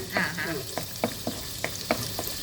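Cashews and raisins fry in hot oil in a pan, a continuous sizzle punctuated by several short clinks and scrapes of a spoon stirring them, close and fairly loud.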